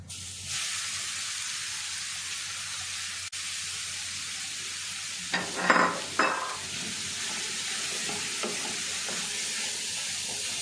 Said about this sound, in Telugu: ఇదైతే నెయ్యిలో అయితే వేయించుకుందామండి